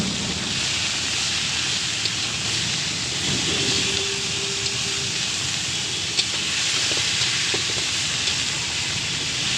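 Amaranth greens (note or chamlai shak) fry in a pan with a steady, even sizzle and hiss that continues without pause, close and fairly loud.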